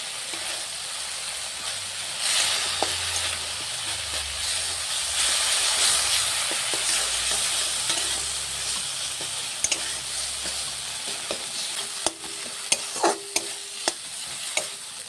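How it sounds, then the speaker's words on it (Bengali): Turmeric, chili powder, cumin-coriander powder and sauce sauté with a splash of water in a pan for Bengali-style okra curry. A steady close hiss and sizzle runs throughout, with scraping stirs and sharper clicks of the spoon near the end. "আর একটু জল দিয়ে আমি ভালো করে কষিয়ে নেব সব মশলার সঙ্গে"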